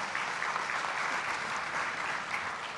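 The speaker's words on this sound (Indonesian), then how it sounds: "Kita beri tepuk tangan dulu buat Pak Burhan." Steady, dense applause from an audience at the Malam Anugerah GCG Awards 2024 evening, sustained and even throughout with no voices breaking through.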